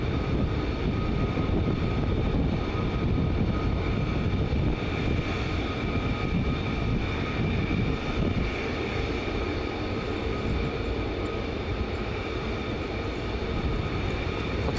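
Steady, loud engine roar of aircraft night flying at RAF Lakenheath, a continuous broadband rumble with a faint whine on top that holds throughout, heard from a distance with no voices.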